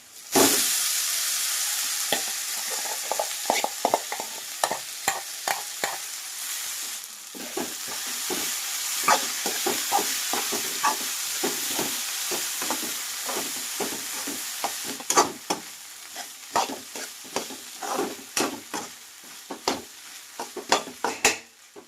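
Oil sizzles steadily while a spoon scrapes and stirs cooked toor dal and dill leaves into a tempering in repeated strokes, with occasional clinks of metal against the pot.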